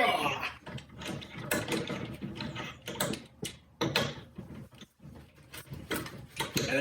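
Hand wrench turned on a bolt in a woodshop dust-collection setup, giving a run of close, clicking ratchet-like mechanical ticks and scrapes in uneven bursts, with a short grunt of effort among them.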